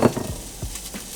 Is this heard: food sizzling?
yes